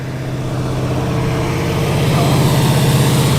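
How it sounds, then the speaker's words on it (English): Ford Cobra classic car with a beefy engine running at a vintage car show, a loud, steady low rumble that slowly swells a little as it goes on. "This one sounds like it's got a pretty beefy engine."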